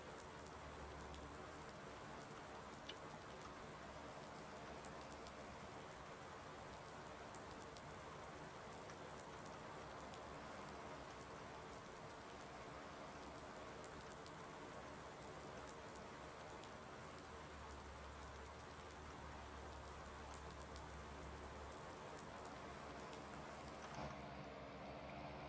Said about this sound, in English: I wish this rain would frickin' stop.